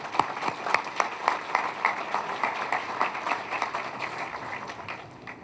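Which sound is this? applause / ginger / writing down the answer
applause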